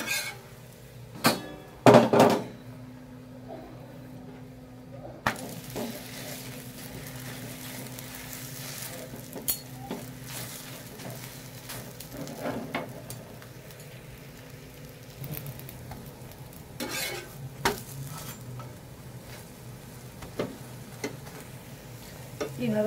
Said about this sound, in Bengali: হালকা করে আঁচ দিয়ে আঁচ দিয়ে ভাজতে থাকুন পরোটাগুলো